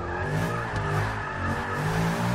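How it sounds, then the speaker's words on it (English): Tires of a supercharged Range Rover squeal and skid under hard braking in the Forza 6 racing game, a loud sustained screech with a droning engine underneath and no talking. "if you tap that e-brake, get the back wheels out a little bit"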